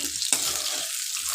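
Food frying in oil hisses steadily as it is stirred, with a sharp clink of the utensil early on and a continuous sizzle for the rest of the brief moment.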